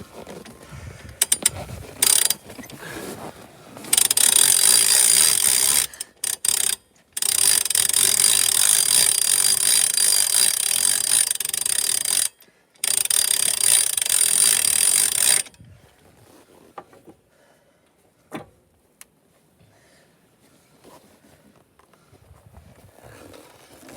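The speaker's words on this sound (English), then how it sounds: "So we're just going to finish cranking the other side up, repeat the process to the other side." A hand crank jack raises one side of a 2016 Ice Castle fish house, giving a steady, loud ratcheting clatter for about eleven seconds with a few short breaks, then near quiet with a few scattered clicks.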